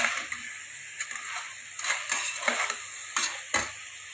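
Meal maker and sweetcorn frying in a pan with a steady close sizzle, broken by several sharp scrapes and clinks of a spoon stirring against the metal.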